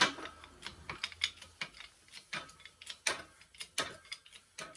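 A hydraulic bottle jack in a shop press setup is hand-pumped in a quick, uneven series of short metallic clicks and ratcheting knocks, close and fairly quiet, with no voices.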